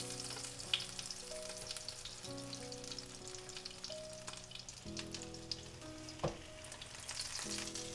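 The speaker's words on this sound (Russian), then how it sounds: "прижимаем к сковороде, чтобы по бокам также у нас пропеклось" A soufflé omelette with asparagus fries quietly in a pan, a soft, continuous sizzle with a few small scrapes and taps, and no one talking.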